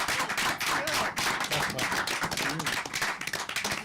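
Audience applause at a 2022 Republican and Libertarian candidates' debate in Oregon: dense, steady clapping from many hands fills the whole stretch, loud and close, with no talk over it.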